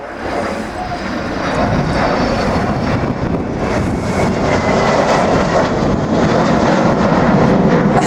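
Royal New Zealand Air Force Boeing 757 jet accelerating nose-up during an air display, a loud roaring engine thrust that swells and stays strong across the whole stretch, heard from the ground.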